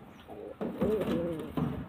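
An old pigeon cocks coos in short repeated bursts, a low throaty warbling call heard close, with faint background noise between phrases.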